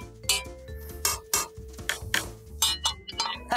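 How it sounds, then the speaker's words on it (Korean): A cup used as a kitchen-utensil percussion instrument is struck repeatedly, giving bright, high, ringing clinks in an uneven rhythm, close and without voices. "오, 컵에서는 아주 높은 소리가 나네."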